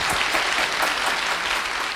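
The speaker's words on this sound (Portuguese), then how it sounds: "Nosso aplauso também ao Senhor, aos seus anjos que têm servido a nossa vida" Steady, dense applause for the Lord during a virtual worship meeting, a continuous bright wash of many clapping hands at a constant level, with no speech over it.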